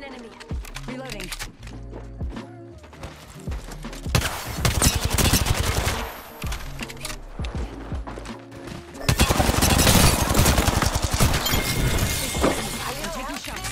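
Bursts of gunfire and sharp cracking impacts in Apex Legends come in several volleys amid other loud game sounds, with the heaviest, densest barrage near the end.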